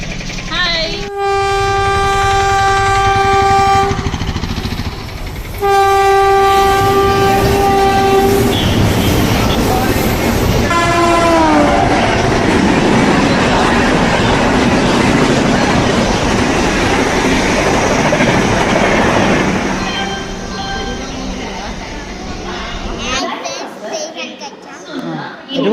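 A train at Warangal railway station, with two long blasts of a horn followed by a rumbling, clattering passing train that fills most of the clip and fades toward the end, with voices heard over the platform noise.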